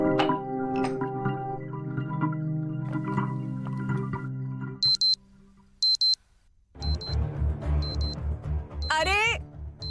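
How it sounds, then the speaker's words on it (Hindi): An old-fashioned alarm clock at home goes off nearby, first with a few short high beeps, then a loud, rapidly pulsing ring after a quieter stretch of other sound. "अलार्म बंद रखा करना, कितने बार बोला"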